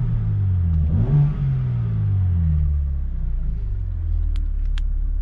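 Exhaust of a 2022 BMW with its valves back on factory control, a close, deep rumbling rev that rises and falls once, then settles into a steady low idle burble, with a couple of faint clicks near the end.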